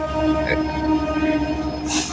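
An intercity express train rumbles into a station platform in the rain with a low steady drone and faint metallic hum, a soft hiss rising at the very end.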